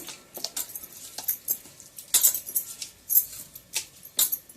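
Spoon or utensil clinking against a bowl while fish pieces are mixed with spice paste for a fish curry (pangas fish): irregular metallic clinks and scrapes, close and intermittent, with no talking.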